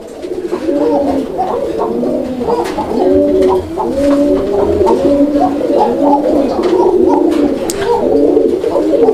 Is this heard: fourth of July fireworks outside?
no